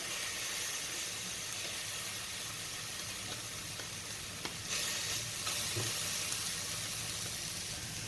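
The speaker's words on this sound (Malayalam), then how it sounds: "മീഡിയം ടു ലോ ഫ്ലെയിമിൽ വെച്ച് കൊടുത്തിട്ട് തന്നെ ഇതൊക്കെ മൊരിച്ചെടുക്കണം കേട്ടോ" Ingredients for payasam frying in a pan over a medium-low flame, a steady soft sizzle and hiss that runs evenly throughout with no talking.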